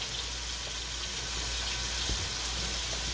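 Meat and sweet peppers fry with seasoning in a pan, making a steady, even sizzle with a soft crackle and a low hum underneath, unbroken for the whole few seconds.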